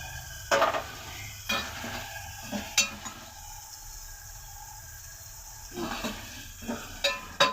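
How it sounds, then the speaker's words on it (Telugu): Tomatoes and green chillies cook in a pan with a soft continuous sizzle, broken by several sharp scraping stirs and clinks of a utensil against the metal. "టమాటా పచ్చిమిరపకాయలు ఎక్కువసేపు మగ్గనిద్దాం."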